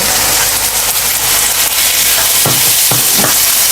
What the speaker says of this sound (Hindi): इसकी अच्छी तरह मिक्स करेंगे, हल्की सी ग्रेवी बन जाएगी